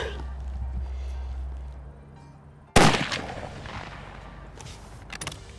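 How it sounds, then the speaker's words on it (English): A single sharp cold-bore rifle shot with a scope fitted, loud and close after a few seconds of quiet outdoor ambience, followed by a decaying echo and a faint clink near the end. "Cold bore shot."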